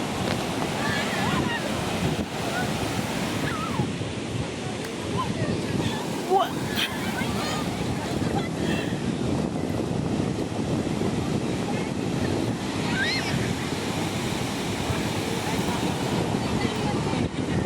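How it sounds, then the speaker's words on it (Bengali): Sea waves washing onto the beach at Cox's Bazar, a continuous loud roar of surf with wind buffeting the microphone, as people are heard faintly in the background. "এত সুন্দর ঢেউগুলো কত সুন্দর"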